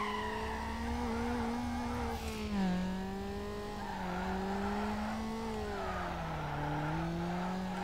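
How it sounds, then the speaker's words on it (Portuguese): A front-wheel-drive Honda Civic drifts in Need for Speed Underground, its engine droning at a wavering pitch as the tires squeal in a long continuous slide. "Olha o drift aí"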